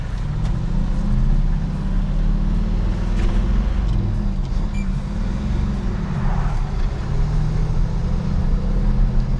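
A lifted 1979 International Scout with 33-inch tires rumbles loudly from inside the cab while driving, its engine a deep, steady drone with road noise and shifting low tones throughout.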